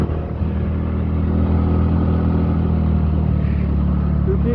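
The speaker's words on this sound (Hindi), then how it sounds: "बस थोड़ा सा गाड़ियाँ चलती है रोड में, थोड़ा सा चहल पहल रहती है" Motor vehicles, scooters and bikes run along a road in Nainital, a loud continuous engine drone with a low rumble that holds steady throughout and no voices.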